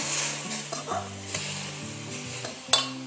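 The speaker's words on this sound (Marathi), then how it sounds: "आता थोडं थोडं करून मी ह्याच्यात रवो घालते" Roasted semolina stirred into a pan on a stove, a spoon scraping and rasping against the pan in quick repeated strokes with a light sizzle underneath and a sharp clink near the end.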